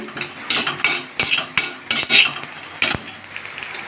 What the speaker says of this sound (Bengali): এইটা আমি আলাদা করে ভেজে নিচ্ছি এখানে তাওয়াতে করে